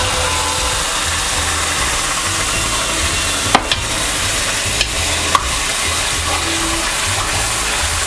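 Homemade masala sizzles and fries in a pan for Punjabi chole, a loud continuous crackle with a few sharp scrapes of the spoon stirring it.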